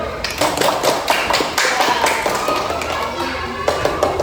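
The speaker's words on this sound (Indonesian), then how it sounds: "tepuk tangan untuk Anggun" Classroom of primary school pupils clapping together for a classmate, a dense patter of many small hands, close and steady, with children's voices mixed in.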